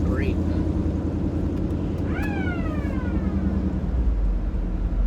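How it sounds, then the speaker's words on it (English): An emergency siren wails briefly in a short rising and falling sweep over the steady rumble of a nearby car engine. "That's just a siren."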